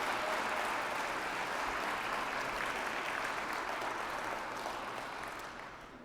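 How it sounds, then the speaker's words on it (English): An audience at a charity gala breaks into sustained, dense applause that holds steady and then begins to taper off in the final second. "A big round of applause for these institutions."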